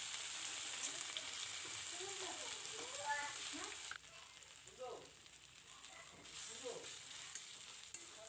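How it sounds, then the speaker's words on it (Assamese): Faint crackling sizzle of ginger-garlic paste frying in leftover fish-frying oil runs steadily while a voice talks over it. "মাছৰ তেলতে মই এতিয়া আদা নহৰু পেষ্টখিনি দিছোঁ"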